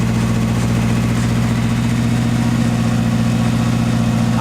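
A Factory Five 818 with stage 3 cams idles high at about 1,700 RPM, a loud, close, steady engine drone with a lumpy, pulsing rhythm and no one talking.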